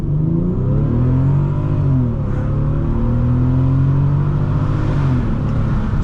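A 2008 Bentley Continental GT accelerates hard from a standstill toward 60 mph, its engine rising through the revs in a loud, continuous roar heard from inside the cabin, with the pitch climbing and briefly dropping at a gear change.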